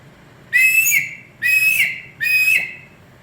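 Three shrill, breathy blasts of a wooden eagle whistle, each lasting under a second, evenly spaced and close by with no other sound.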